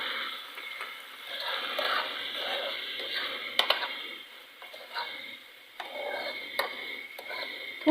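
Chicken fries and is stirred in a pan with vinegar, chilli sauce and soy sauce, a steady close sizzle with scraping spoon strokes and a few sharp clicks, alone with no talk.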